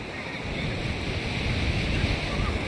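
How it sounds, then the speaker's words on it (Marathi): Strong sea waves surge and break at Chinchani beach, a steady, loud, wide wash of surf with wind buffeting the microphone throughout. "एवढ्या इतक्या जोराजोराने लाटा येत आहेत,"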